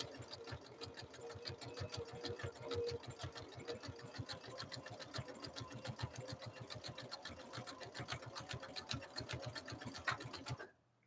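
A Husqvarna Viking sewing machine with tri-motion feed stitches fabric in a decorative stitch, a continuous rapid mechanical chatter, close and steady, that stops abruptly at the end.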